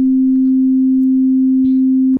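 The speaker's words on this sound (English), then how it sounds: "I have the wavetable device here generating a sine wave." A wavetable synthesizer oscillator sounds a single pure, steady sine tone, loud and unwavering for about two seconds before cutting off abruptly.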